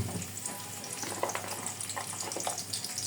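Chopped onion sizzles steadily in a pan with a continuous hiss and scattered crackles, fairly close, with no talking.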